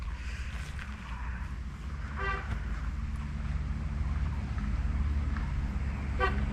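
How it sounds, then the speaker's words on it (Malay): Brief car horn toots sound twice by a road beside a campsite at Fraser Hill, Malaysia, short honks over a steady low rumble of passing traffic. "So dengarlah bunyi horn kereta."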